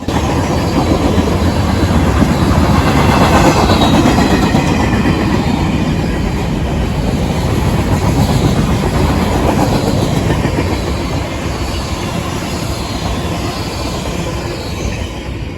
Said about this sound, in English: was a former CSX SD70 Ace lettered for the Robertville and Cyclone Railway